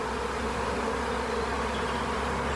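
Honeybees being moved into a new box buzz in a dense, steady swarm drone close by, continuous and even throughout with no voices.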